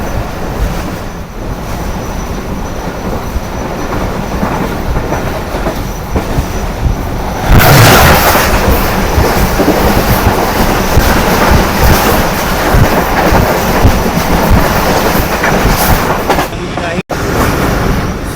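The Bahauddin Zakariya Express passes close by, a loud continuous roar of rolling railcars with rhythmic wheel clatter and occasional squeal, growing louder midway.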